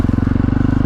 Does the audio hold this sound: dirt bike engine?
yes